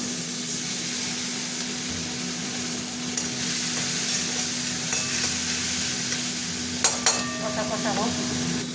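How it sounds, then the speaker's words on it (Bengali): Spice masala frying in oil in a pan while being stirred for a pointed gourd and lentil dish, a loud continuous sizzle with periodic spoon scrapes and a couple of sharper clinks near the end. "মশলাটা ভাজা ভাজা হতে থাক।"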